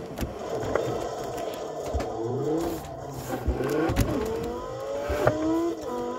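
Car engine revving and shifting through gears in the Forza racing video game, a steady engine drone rising and falling at moderate loudness with brief scrapes, no talking.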